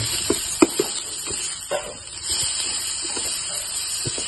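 Chopped onions and chilli frying in a pan with salt, a steady close hiss and sizzle broken by a few sharp crackles and pops.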